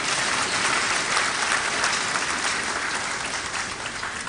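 A large audience applauds at a university graduation congregation, a dense continuous wash of clapping held at even strength throughout.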